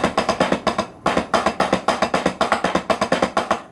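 Single-stroke roll played on a drum, a quick, even stream of close, crisp hits in steady groups with short pauses between bursts.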